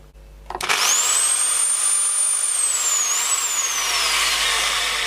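An old Peugeot electric drill starts up and quickly rises to a loud, steady high-pitched whine, its motor pitch wavering slightly as it keeps running.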